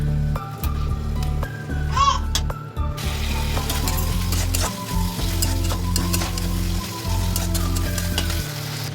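Spice masala frying in oil for a rohu fish curry, with a steady loud sizzle and stirring scrapes throughout and a brief clink near the start.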